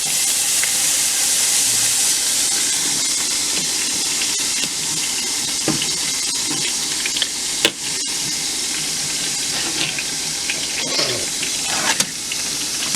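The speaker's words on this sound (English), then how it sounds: "So now we're gonna go ahead and add our corn mutton." Corn mutton frying in a hot pan, a loud, close, continuous hiss and sizzle of steam with scattered pops and crackles running for the whole stretch, no one speaking.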